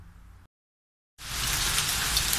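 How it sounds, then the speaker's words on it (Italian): Season's first hailstorm falling on a summer vegetable garden, a dense, steady hiss of pelting ice that starts after a short silence and keeps going loud and continuous. "c'è la prima grandine della stagione"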